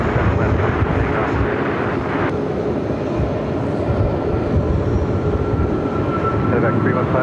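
An American Airlines jet roars steadily down the runway on takeoff at Phoenix airport, a loud broad engine rumble and whine heard continuously for several seconds, with faint radio chatter beneath.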